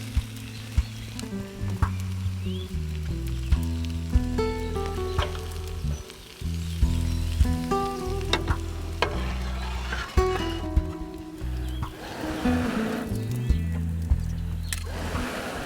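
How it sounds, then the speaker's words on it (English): Mushrooms fry and sizzle steadily in a pan over an outdoor wood fire, a continuous crackling hiss with occasional stirring scrapes and utensil clinks close by. "just make sure you're getting the mushrooms really golden."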